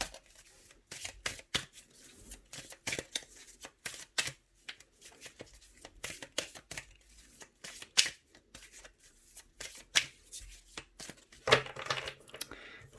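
Oracle cards are shuffled by hand in repeated quick riffling bursts of papery flicks and slaps, close and fairly quiet, with a few sharper snaps along the way.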